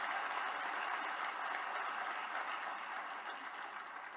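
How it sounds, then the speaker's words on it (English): An audience at an academic ceremony gives a big round of applause, sustained, even clapping from many hands, moderately distant and tapering slightly toward the end. "give them a big round of applause to all of them"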